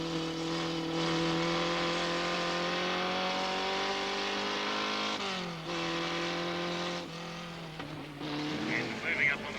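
A vintage race car changes down into a corner at a classic racing event, its engine note holding steady, then dropping in pitch with each downshift, under continuous commentary.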